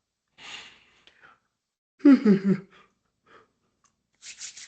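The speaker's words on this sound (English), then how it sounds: "I'm going to yawn" A person yawns with a long breathy inhale and drawn-out voiced exhale, followed by a couple of softer breaths, close and fairly loud in an otherwise quiet room.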